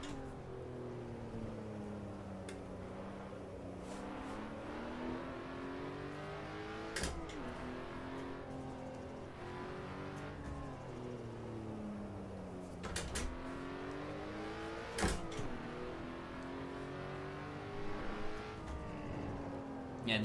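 A car in the racing video game Assetto Corsa EVO, with a supercharged V6, revs and accelerates through repeated upshifts, the engine note climbing and dropping in steps, alone without talk.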